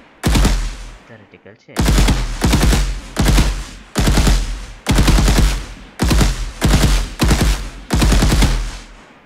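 Rapid-fire gunshots ring out in an Unreal Engine third-person shooter video game, coming in repeated loud bursts of several shots each with brief gaps between them, while someone speaks briefly near the start.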